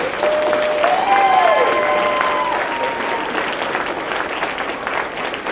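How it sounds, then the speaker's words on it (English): An audience at a university hypnotist show applauds the volunteers, a loud sustained wash of clapping with a brief whistle or tonal sweep rising over it early on. "Let's give a big round of applause to all our volunteers."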